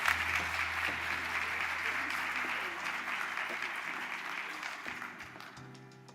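An awards audience at a technology recognition event applauds an honoree, dense clapping that starts strong and slowly tapers, with a low hum underneath and a voice emerging near the end.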